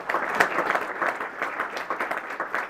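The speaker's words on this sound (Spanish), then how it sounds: "Denle un aplauso a Dios." Steady applause from a church congregation clapping for God, a dense and even patter of many hands throughout, without speech.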